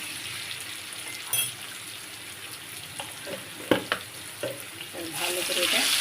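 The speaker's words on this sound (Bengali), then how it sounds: "ভালো করে এটা ভেজে নেব" Potatoes fry in a pan with turmeric and salt, giving a steady close sizzle broken by a few sharp spatula scrapes and clicks. The hiss swells louder toward the end.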